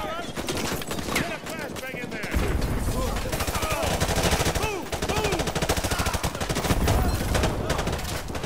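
Gunfire in the Call of Duty Modern Warfare 2 campaign remaster: loud, continuous automatic bursts and rapid shots, with shouted voices mixed in over the battle.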